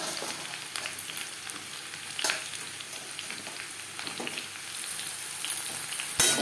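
Potatoes frying in a pan, stirred now and then: a continuous dense sizzle with occasional scrapes and knocks of a utensil, swelling toward the end, heard close and alone without any voices.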